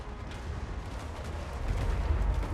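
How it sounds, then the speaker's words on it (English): Artillery firing in Total War: Warhammer 2 during a dwarf siege of a city, a rolling low boom and rumble of distant guns that builds toward the end. "our artillery just got in range"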